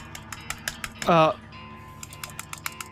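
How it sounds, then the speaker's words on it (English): Computer keyboard keys clicking during a Nuclear Throne gaming session, a scatter of sharp, close taps spaced across the moment, with a brief burst of game sound partway through and a voice talking. "Can you hear that? I'm clicking"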